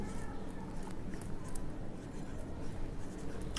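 Pen scratching across paper while working through an accounting journal entry, a steady soft scribble running close up throughout with a low background hum.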